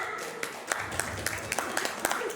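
An audience claps at a Balinese storytelling contest for PKK women in Desa Mekar Bhuana, a brief patter of clapping with sharp individual claps standing out, under a voice.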